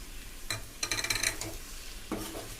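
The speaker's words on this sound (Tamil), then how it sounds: "இப்போது சாதம் உடையாமல் நம்ம நல்லா கலந்து விட்டுக்கலாம்" Cooked rice and peanuts stirred in a pan give soft scraping and clinking bursts at close range, quiet overall with a faint low hum beneath and no talk.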